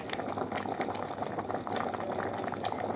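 Fava beans for ful medames simmering in a covered pot, a steady close bubbling and hissing boil that runs continuously with soft pops throughout.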